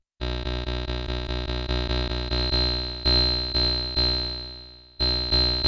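A Teenage Engineering OP-XY synthesizer repeats a buzzy, distorted tone, and a thin whistling sine-like pitch from its self-oscillating filter rings through the sustained notes.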